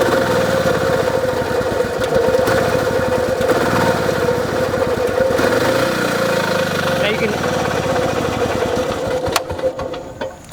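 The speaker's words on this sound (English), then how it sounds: "we do have a good engine, but it's still not getting up to the high enough RPMs" A small two-stroke golf cart engine idles steadily with a rough, buzzing putter, holding a constant low pitch throughout without revving up, failing to reach high enough RPMs.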